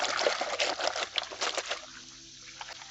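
Water splashes and sloshes as white jeans are hand washed in a basin, with busy, irregular splashing that settles into quieter dripping and a low hum toward the end.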